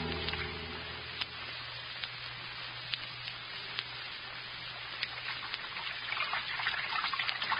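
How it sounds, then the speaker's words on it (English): A steady water sound effect from a 1938 Lights Out radio drama: a dense, continuous hiss of rushing, rain-like water with scattered sharp drips and splashes, growing slightly louder toward the end, with no voices. "Sound of water so loud."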